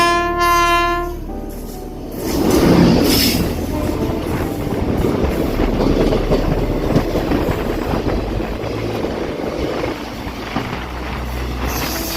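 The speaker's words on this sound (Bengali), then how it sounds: "আর এই যে দূর থেকে আসছে শিয়ালদা রামপুরহাট মাতারা এক্সপ্রেস।" The Sealdah–Rampurhat Maa Tara Express approaches Garifa station from a distance, opening with a long horn blast and then a loud, continuous rumble and rattle of the passing train.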